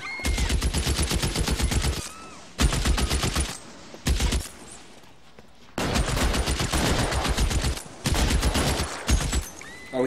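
M1 Garand rifle fire in a video game rings out in loud, rapid bursts of shots separated by short gaps, close and dominant.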